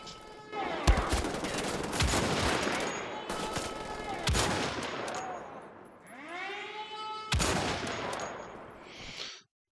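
Loud, rapid gunfire from shooting enemies in the video game Wolfenstein: The Old Blood, with dense bursts of shots broken by brief gaps and mechanical weapon whirs, heard alone without talk.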